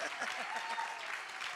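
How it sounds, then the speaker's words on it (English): Audience applauding themselves at a National Rainbow Push Coalition morning gathering, a brief burst of steady clapping with voices mixed in. "Won't you clap for yourselves one more time this morning?"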